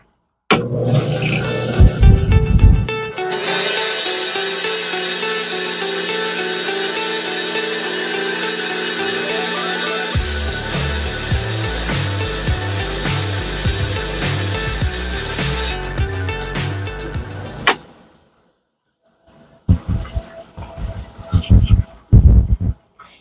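A saw cuts open a cluster of Bahia agate stones: a loud, close, buzzing whine of the blade grinding through stone, its pitch shifting partway through, then it stops and gives way to quieter handling noises.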